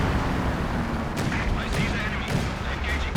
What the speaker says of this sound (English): He's calling in the zeroing artillery, making use of this trick once again.